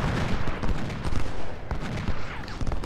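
Cannon and artillery fire in the Civil War strategy game Ultimate General: Civil War, a dense run of overlapping booms and shots rolling continuously with no gaps.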